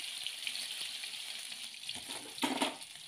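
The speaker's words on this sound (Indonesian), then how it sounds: "Lalu kita tumis ya bumbu yang tadi sudah dihaluskan." Sizzling sauté of ground spice paste in hot oil, a steady watery crackle that swells louder near the end, close by with no talk.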